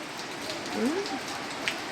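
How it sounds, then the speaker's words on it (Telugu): Steady rain patters on champak plant leaves in a constant, soft hiss, with a brief low voice-like sound in the middle. "ఆ వర్షం నీటిలో తడుస్తూ ఎంత బాగుందో"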